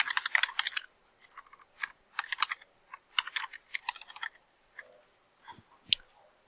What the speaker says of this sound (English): You can type in the address